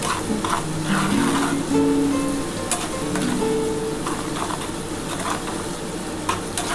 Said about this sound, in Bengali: দেখো পেঁয়াজটা টমেটোটা খুব ভালোভাবে ভাজা হয়ে এসছে।